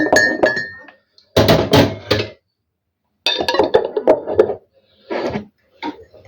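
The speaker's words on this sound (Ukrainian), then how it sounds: "ложечку оцту на кружку води" A spoon clinks against a mug of water mixed with a spoonful of vinegar, giving several bright, close, ringing bursts of stirring separated by short silences.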